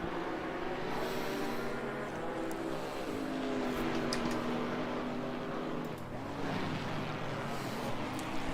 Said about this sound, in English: There goes the Porsche.